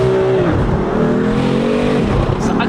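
BMW M4 with a tuned six-cylinder engine revving hard and shifting near its high rev limiter, a loud continuous engine roar with rising harmonics that dip at a gear change around half a second, sustained and close throughout.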